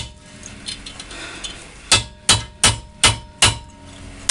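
A hammer drives a chisel into a stuck wheel hub on a Jeep with a Dana 30 axle, six sharp metallic blows in an even rhythm, loud and close after a quiet lead-in.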